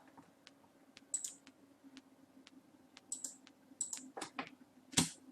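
Fingers type on a computer keyboard while entering text in an Excel VBA sheet, with quiet, close, irregular key clicks and a few louder taps in quick bursts.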